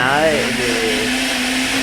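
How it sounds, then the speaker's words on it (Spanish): Blender motor whirring steadily in a cocktail bar, a loud continuous drone with a pitch that sweeps and settles, with talk faintly underneath. "el ruido del momento de la licuadora"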